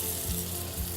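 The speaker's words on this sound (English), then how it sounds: "Once you hear that sizzle, you know you did it right." A rib eye steak sizzles as it sears in a hot oiled pan, a continuous close crackling hiss.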